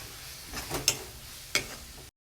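Gundruk is stirred in a pan after flour is added, giving a low sizzle with two sharp scraping clinks of the spoon before the sound cuts off abruptly.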